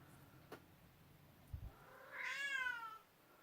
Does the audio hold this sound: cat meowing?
yes